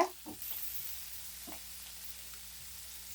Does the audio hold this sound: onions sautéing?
yes